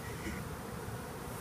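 Honey bees from a hive being removed from a window in Edinburg, Texas drone in a dense, steady buzz that fills the air close by, faint overall with no talk.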